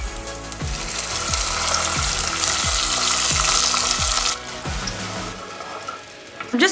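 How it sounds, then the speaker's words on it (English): Loud, steady sizzling as water and sugar are poured into a hot pan for zarda, Indian sweet rice, cutting off abruptly and settling into quieter bubbling. "now we're ready to add in our water and our sugar"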